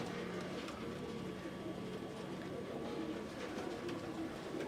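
Purebred Teddy pigeons cooing softly in a loft, low murmuring coos repeating steadily under faint background noise and distant voices.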